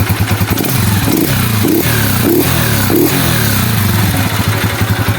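A Mustang Fosti 150 motorcycle engine runs close by, loud and throbbing, with an uneven idle that stumbles and dips from a poorly tuned carburetor, plus some mechanical clatter.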